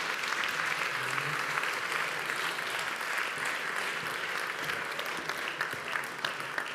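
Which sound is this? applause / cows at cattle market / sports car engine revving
applause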